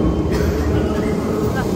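A Paris metro train gives a steady, loud low rumble and rolling roar throughout, with people talking over it.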